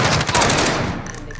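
Rapid automatic gunfire from a Call of Duty match crackles loud and dense through the whole burst, a steady wall of shots with a brief lull just before halfway.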